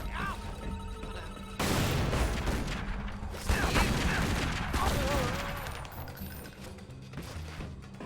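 Grenades explode in the Tomb Raider: Legend video game, two heavy broadband blasts landing amid continuous gunfire and game effects, with tonal game sounds running underneath.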